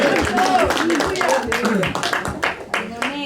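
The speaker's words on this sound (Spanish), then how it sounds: "¿por qué no le damos un aplauso al Señor?" Church congregation applauding at an evangelical service, a dense run of close claps that thins and becomes more scattered toward the end, with voices mixed in.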